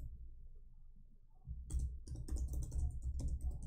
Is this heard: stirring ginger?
no